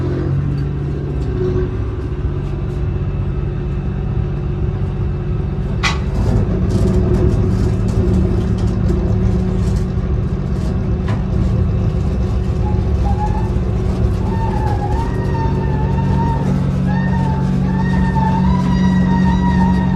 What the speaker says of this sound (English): Engines are running.